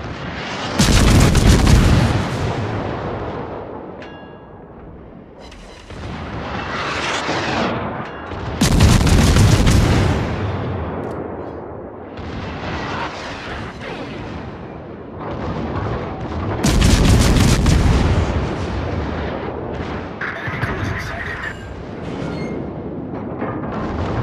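Warship artillery booms repeatedly in the World of Warships naval battle game: heavy cannon blasts arrive in spaced salvos, each followed by a long rumbling decay, over a steady background of engine and sea noise.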